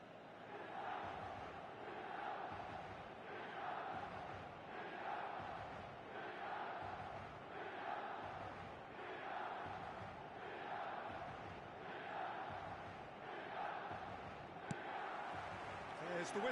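A stadium crowd in a football video game keeps up a steady, loud roar and swell of cheering throughout, with a commentator talking over it.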